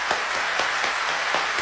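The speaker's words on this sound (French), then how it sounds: "On applaudit la famille." Steady applause and clapping from a crowd celebrating Paris Saint-Germain as unofficial champions of France, a continuous moderate wash of claps with a few sharper bursts.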